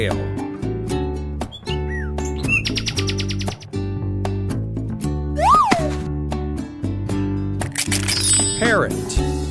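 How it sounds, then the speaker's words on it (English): Bright, twittering nightingale-style chirps rise above a cheerful children's tune, with a cluster of quick trills near the end, all set within the busy backing music. "Nightingale."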